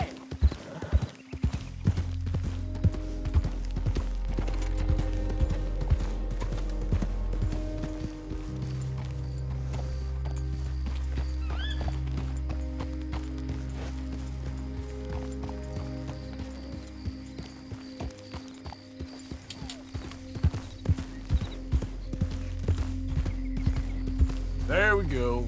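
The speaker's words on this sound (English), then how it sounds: "Damn, that's a fine old nag." Horse hooves clip-clop steadily in Red Dead Redemption 2, with a neigh or whinny, over a low rumbling game soundtrack and a voice speaking at times.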